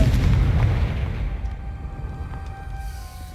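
A Confringo fire spell explodes in the Hogwarts Legacy video game, a loud booming blast at the start that rolls off into a lingering rumble with faint crackling debris.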